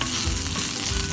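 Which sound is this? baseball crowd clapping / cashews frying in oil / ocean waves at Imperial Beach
cashews frying in oil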